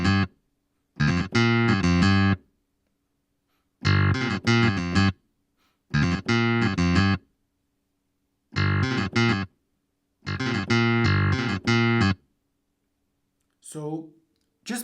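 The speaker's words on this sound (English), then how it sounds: "this is Clavinet V by Arturia" Arturia Clavinet V plugin played on a keyboard with pedal and amp effects, bursts of bright, percussive clavinet chords and riffs in short phrases separated by silences.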